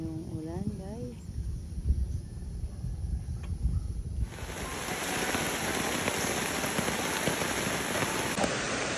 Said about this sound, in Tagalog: Grabe na yung ulan, guys.